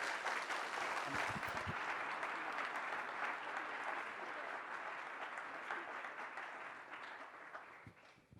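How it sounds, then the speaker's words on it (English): Audience at a veterans forum giving a sustained round of applause, dense steady clapping from many hands that tapers off toward the end. "please join me in a round of applause for thanking all of them"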